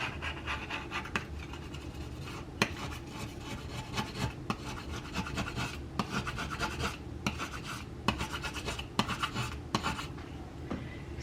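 Blade scraping across a dirty stove top in repeated rasping strokes, close and steady, with sharp scratchy pulses at uneven intervals.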